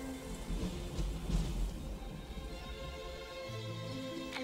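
Steady rain pours down in an animated film, a dense continuous hiss with low rumbling beneath, moderately loud and without voices.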